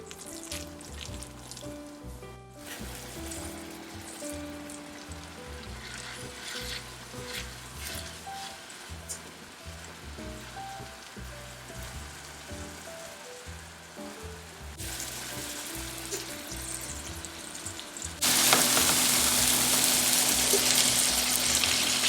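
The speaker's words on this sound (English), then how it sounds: "I let the cutlets fry on each side on medium heat for 5 minutes" Persian kotlet cutlets frying in a pan over medium heat, a soft continuous sizzle with faint crackles, joined by a louder, brighter hiss near the end.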